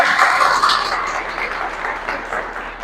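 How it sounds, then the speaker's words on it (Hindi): An audience at a business seminar applauds an achiever being introduced on stage with a loud, dense burst of many hands clapping that tapers gradually over a few seconds. "जोरदार तालियां हो जाए सर के लिए।"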